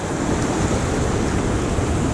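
Surf breaks continuously on a beach where bass are fished, a loud close roar of waves and wash with wind noise buffeting the microphone, no voices.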